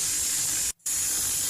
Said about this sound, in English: So let's just say steam noises, and then I would go and click generate.